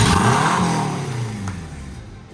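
A Honda Civic engine, freshly swapped in, revs up loudly near the microphone, then the pitch sweeps down as the revs drop and settle into a fading idle.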